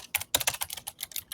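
Rapid bursts of keystrokes on a computer keyboard, close and crisp, clattering in quick irregular clusters with brief pauses between them and no voice over them.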